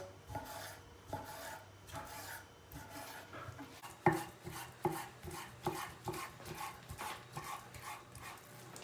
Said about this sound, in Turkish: Tavuklarımızı ince doğrayacağız.